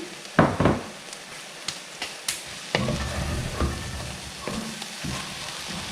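Textured soy empanada filling with olives sizzles and fries steadily in a pan, with loud stirring scrapes and clatters at the start and scattered later.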